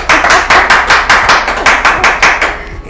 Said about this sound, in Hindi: काफी देर तक चलती रही है तालियां